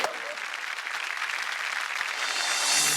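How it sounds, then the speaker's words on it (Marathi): A studio audience at a Marathi TV show bursts into dense, loud applause that holds steady for a few seconds and swells slightly at the end, with no voice over it. "जोरदार टाळ्या साई ताईंसाठी होऊन जाऊ दे"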